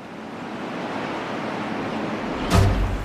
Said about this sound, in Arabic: احنا وصلنا على الساحل، بحر العرب